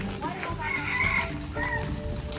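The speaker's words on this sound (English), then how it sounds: "A rooster." Rooster crowing at a zoo, a drawn-out bright call rising and falling once, close by, with chatter and other bird sounds around it.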